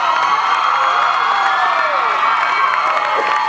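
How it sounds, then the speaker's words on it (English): An audience at a 2008 talent show cheers and girls scream, a dense sustained crowd roar with high shrieks and whoops running throughout, loud and close. "you guys are making all the girls scream tonight"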